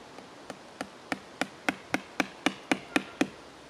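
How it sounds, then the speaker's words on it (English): A rubber hammer taps ArborSonic sensors into a tree trunk, about a dozen sharp, evenly spaced knocks in a steady rhythm, close and clear with no talk. "I'm using rubber hammer."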